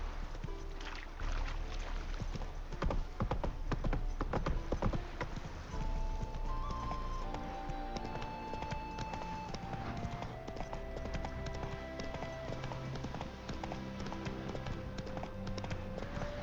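Hoofbeats of the horse Roach in The Witcher 3, a steady clip-clop of trotting hooves running throughout over game music and ambience, with no talk.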